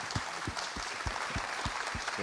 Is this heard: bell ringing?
no